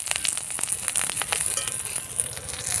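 Ghee crackles and sizzles over curry leaves in a hot pan while making aloo chokha, a dense, continuous frying hiss heard close up with no voices.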